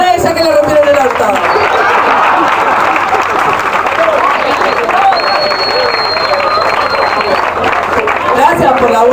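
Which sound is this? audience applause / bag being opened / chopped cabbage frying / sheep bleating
audience applause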